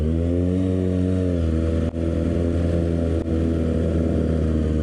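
Sport motorcycles, a Kawasaki ZX6R and a Suzuki GSX, idle and rev nearby with a continuous, loud, buzzy engine hum that swells slightly partway through.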